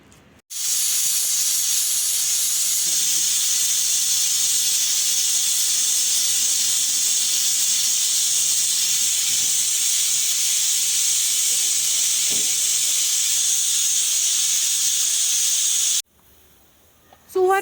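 A pressure cooker cooking rajma lets out one long, loud, unbroken hiss of steam that runs for about fifteen seconds, then stops abruptly.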